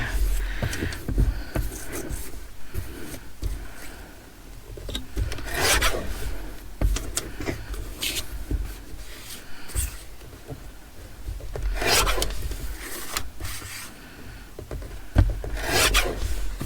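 A paper trimmer slices through art history cards in repeated rasping strokes, close and fairly loud, with short scraping bursts separated by small pauses.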